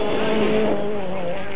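A rally car at Rally Argentina passes close with a loud, sustained engine note whose pitch sweeps up and then settles, and the roar fills the whole moment.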